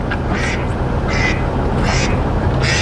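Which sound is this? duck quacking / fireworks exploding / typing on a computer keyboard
duck quacking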